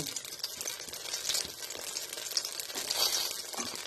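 Eggplant and tomato pieces fry in a pan of oil, giving off a soft, steady sizzle with faint crackles and pops, close by and fairly quiet, with no talk.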